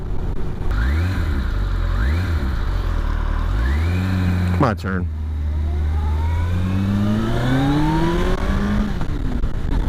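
A motorcycle engine being broken in revs up and down through repeated rising sweeps and gear changes, loud and close with wind noise, while a rider speaks briefly over it.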